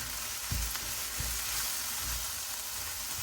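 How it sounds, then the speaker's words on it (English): Turmeric, masala and salt being stirred into frying onions in a pan for a Fiji-style soya chunk curry, a loud constant sizzle with a few soft stirring thumps, close and without talking. "Now I'll go ahead and add in my hardi, masala and nimak. And we'll give this all a good mix."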